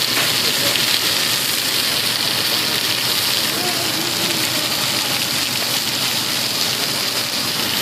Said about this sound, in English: And have a nice sear going on